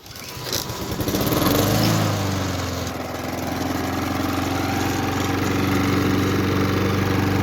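A Honda lawn mower, nine years old, catches on the first pull of its cord and settles into a loud, steady engine drone close by.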